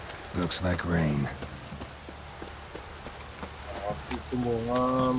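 Steady rain hisses across the landscape in The Witcher 3: Wild Hunt, a constant wash under moderately loud voices talking at the start and end of the passage.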